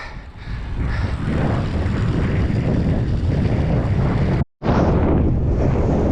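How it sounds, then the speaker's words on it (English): Strong headwind buffets the microphone of a bicycle rolling downhill into Playa Blanca on Lanzarote, a loud continuous roar with a brief dropout near the end, no voices. "Unusually it's been a headwind for the last 10 kilometers"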